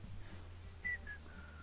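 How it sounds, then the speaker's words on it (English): A person whistling quietly indoors, a few short thin tones followed by a longer held note, faint and close over a low background hum. "I probably shouldn't whistle in there."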